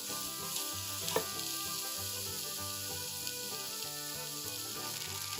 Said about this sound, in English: So you're just going to want to saute these until they get soft.